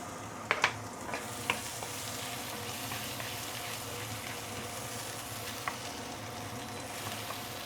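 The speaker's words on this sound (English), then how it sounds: "So let's saute this for a while before we continue." Garlic, dried shrimp and shallot sizzling in prawn oil in a pan, a steady close frying hiss with a few sharp taps and stirs of a utensil early on, no voices.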